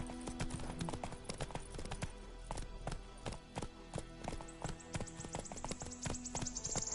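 Roach the horse from The Witcher 3 walks with steady, crisp clip-clopping hooves, a close and even rhythm of distinct hoof strikes throughout, with no talking.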